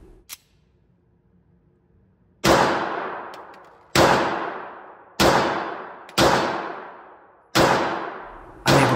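Six loud, close gunshots from a subcompact pistol, fired one at a time about a second or so apart, each a sharp crack with a short ringing decay, with no talk over them.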